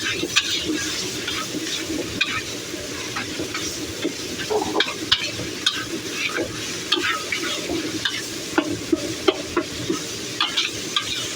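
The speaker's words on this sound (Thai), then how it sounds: "ฟังเสียงกระทะ ฟังเสียงไฟทุกคนนะ" Pork and holy basil being stir-fried in a hot pan, a steady sizzle and hiss with repeated scraping and clanking of the utensil throughout, close and loud.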